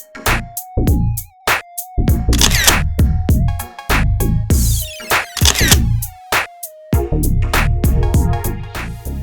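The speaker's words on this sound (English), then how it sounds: "First, Nikon Coolpix B500." A Nikon Coolpix B500 compact camera fires a rapid series of sharp shutter clicks in bursts, with electronic beeps and a brief whirr, close and loud with no talk.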